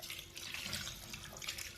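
Two glasses of water pour into chicken pakoda batter made with watermelon seeds, a steady soft splashing stream filling the brief moment on its own.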